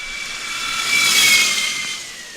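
A Formula Student race car launches off the line in an acceleration event, a high-pitched electric-sounding whine rising and swelling to a peak midway before fading as it passes, with no talking.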